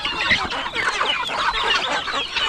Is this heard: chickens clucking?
yes